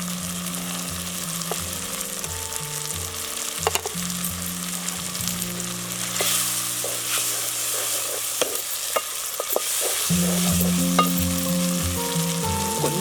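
Tomatoes frying and softening in a pan for a gongura egg curry, with a steady sizzle and occasional stirring scrapes running throughout, close up and alone.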